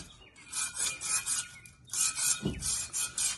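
Rough back-and-forth sanding with 80 grit sandpaper on a painted tractor surface, a steady series of close, loud scratchy strokes with a brief pause near the middle.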